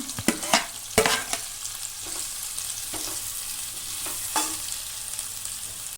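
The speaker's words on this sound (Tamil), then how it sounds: "பச்சை மிளகா நல்லா வதங்கட்டும் இப்போது ரெண்டு பெரிய வெங்காயத்தை நீல வாக்கில் சாப் பண்ணி அதையும் நான் அதில் சேர்த்துக்கிறேன்" Sliced onions and green chillies sizzling in a pan for chicken biryani, a continuous crackling fry broken by several sharp stirring and scraping knocks, close and clear.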